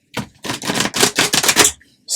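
Tarot cards riffle-shuffled close up in several quick crisp bursts of flapping and snapping, each lasting a moment, with no talking.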